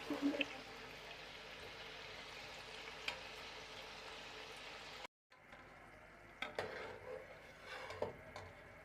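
Sugar stirred into hot oil for makhandi halwa: soft scraping stirs over a steady low sizzle, close and fairly quiet, with a short silent break midway and a few sharper utensil knocks toward the end, no talking.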